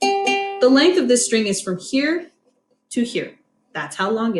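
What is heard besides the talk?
No everyday noise stands out behind the speech.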